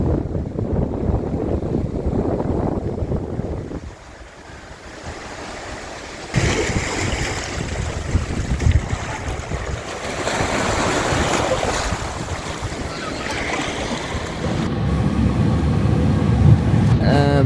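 Ocean surf washing ashore at Aviation Beach in San Juan, Puerto Rico, a broad steady roar of breaking waves with wind buffeting the microphone, dipping briefly before the next surge swells louder.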